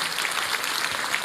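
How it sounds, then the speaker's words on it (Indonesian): A dense church congregation applauding, steady and loud, sustained clapping from many hands with no pauses. "Berikan tepuk tangan kita untuk Tuhan kita"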